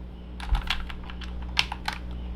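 Keystrokes on an E-YOOSO HZ61 magnetic switch keyboard, about a dozen close clacks in an uneven burst over a steady low electrical hum.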